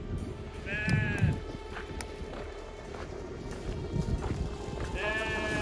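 Arabian sheep in a desert farm flock bleat in two clear nearby calls, one early and one at the end, over shuffling hooves and movement as the animals run together.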